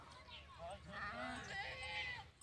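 Sheep bleat in a rural livestock setting, several wavering, nasal calls overlapping one another, moderately close, with someone talking over them.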